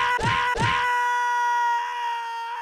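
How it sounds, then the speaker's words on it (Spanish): Characters in a Pou video game scream loudly, two sharp shrieks quickly followed by a long, sustained, piercing wail that slowly fades. "gritaron tan fuerte que debes de ser aterrador"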